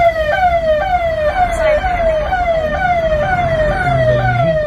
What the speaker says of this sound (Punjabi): ਵਿੱਚ ਹੀ ਐਂਬੂਲੈਂਸਾਂ ਵਿੱਚ ਹੀ ਫਾਇਰ ਬ੍ਰਿਗੇਡ ਵਾਲੀਆਂ ਖੌਰੂ ਪਾਉਂਦੇ ਜਾਂਦੇ